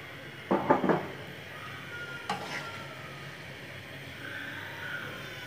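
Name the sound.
stirring bitter gourd and fish curry in a pan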